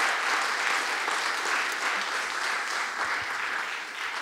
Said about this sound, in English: can we have another round of applause, please, for Eva?